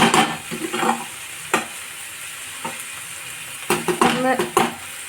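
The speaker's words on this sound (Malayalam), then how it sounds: "നന്നായിട്ട് വഴറ്റുക വഴറ്റിയിട്ട് ഒന്ന് മൂടി വെക്കും" Tomatoes are sautéed in a pan for a mussel roast, with a spatula stirring and scraping in short strokes over a steady background sizzle.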